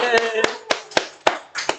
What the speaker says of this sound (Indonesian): Oh, tepuk tangan dulu